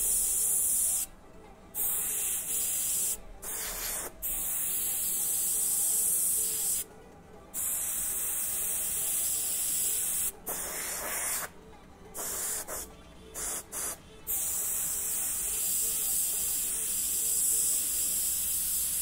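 Airbrush hissing paint onto a custom-painted Jeep dashboard, the nozzle cap removed for fine detail work; a steady close spray hiss in repeated bursts with short pauses between passes.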